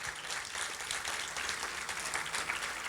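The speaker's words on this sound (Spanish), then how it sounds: "Vamos a darle un fuerte aplauso a mis hermanas." Church congregation applauding during a worship service, a steady wash of clapping from many hands that holds at an even level throughout, with no voices standing out.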